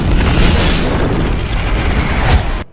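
A loud, sustained explosion in the film AvP: Requiem roars with deep rumbling and crackling debris, swelling again near the end before cutting off abruptly.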